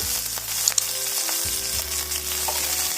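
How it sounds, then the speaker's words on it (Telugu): Curry leaves and chillies crackle in hot oil for a curry leaf pachadi, a loud, close, steady sizzle with a few brief stirring knocks over it and no voices. "మంచిగా ఫ్రై కావాలి మిరపకాయలు వేసాక"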